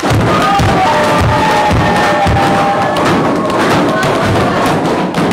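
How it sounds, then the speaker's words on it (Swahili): A crowd at an official ceremony claps for a newly appointed regional engineer, a dense, loud burst of applause with thumping hand claps and some voices mixed in. "mpigeni makofi mengi sana"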